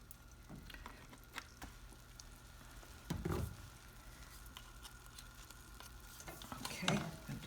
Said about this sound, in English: I'm going to keep stirring this and make sure I'm trying to integrate this butter and sugar